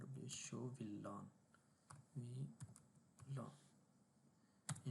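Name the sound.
typing a command on a computer keyboard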